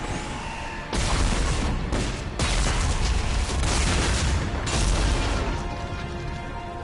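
A Destroyer blows apart during a Mass Effect 3 battle, heard as a sustained, dense roar of booming blasts and crackling bursts that swell loudly and rumble on for several seconds without pause.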